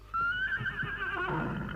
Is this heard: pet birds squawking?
no